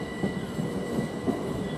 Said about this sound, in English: Now we've got a train moving here.